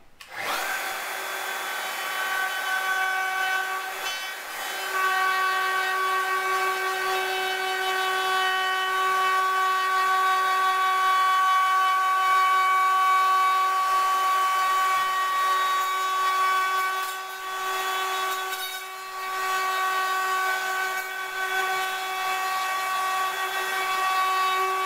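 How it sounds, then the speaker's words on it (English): Router fitted with a bearing cutter trimming a wooden door sill, a steady loud whine that runs unbroken from start to finish with a slight dip near the end, no talking. "Starting it on a piece like this is quite difficult with this bearing cutter"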